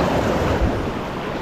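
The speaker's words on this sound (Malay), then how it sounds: "Okey, ombak mari dah." Ocean waves surge against shoreline rocks at a shore-based fishing spot, a steady, close, loud wash of surf with wind rumble and no talking.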